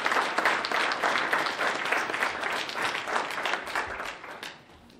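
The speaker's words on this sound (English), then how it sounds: "another round of applause for that beautiful poem" An audience at a Martin Luther King Jr. celebration in Conway, Arkansas applauds a poem, with dense, even clapping that holds steady and then fades away near the end.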